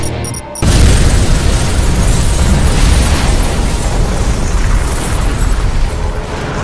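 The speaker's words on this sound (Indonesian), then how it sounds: "Robert lebih dulu meledakkan bom yang sudah ia aktifkan." A loud bomb blast from a movie scene erupts after a brief pause and rolls on as a dense, sustained roar with heavy low rumble, filling the whole stretch without any voices.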